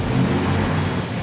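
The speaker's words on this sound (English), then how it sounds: "That car is sick. 1958 Plymouth Fury, 350 cubic inch, dual 4." The engine of a 1958 Plymouth Fury with a 350 cubic inch V8 and dual four-barrel carburetors rumbles and revs nearby, a loud, steady low growl that rises and falls slightly.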